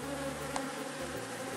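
Honey bees at their nest, fanning to dry nectar, give a steady, close, low buzz that holds for a brief moment.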